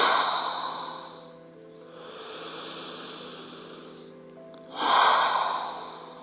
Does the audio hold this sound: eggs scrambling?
no